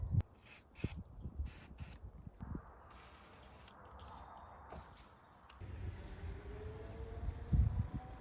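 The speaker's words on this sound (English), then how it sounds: "but for now I'll just spray some WD in there." A WD-40 aerosol can sprays into a car's bonnet, faint hissing bursts mixed with soft handling clunks and rustles close by, with no talk.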